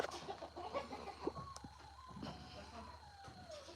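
Chickens on a ranch cluck faintly and irregularly at a distance, with soft clucks and scattered calls over low background noise.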